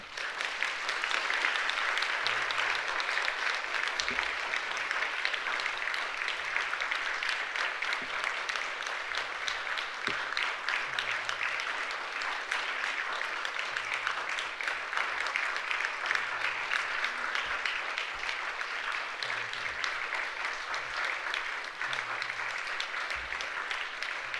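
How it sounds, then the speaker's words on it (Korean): A church congregation at a worship service claps in a long, steady, moderately quiet round that keeps an even level for the whole stretch. "박수 소리가 좀 약한 것 같습니다."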